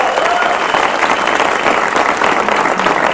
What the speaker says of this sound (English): I completely second those who were just applauding